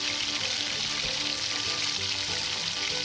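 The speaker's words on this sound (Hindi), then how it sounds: "टमाटर शामिल करके इसे अच्छे से मिक्सअप कर लें और तब तक इसकी भुनाई करें जब तक टमाटर नरम ना हो जाए।" Tomatoes fry and get stirred in a pot for channa pulao, giving a steady, close, dense sizzle with faint scraping from the stirring.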